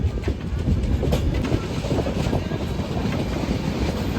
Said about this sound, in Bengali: জামতারায় দু মিনিট হল ছিল তারপরে জামতারা স্টেশন থেকে ছেড়ে দিল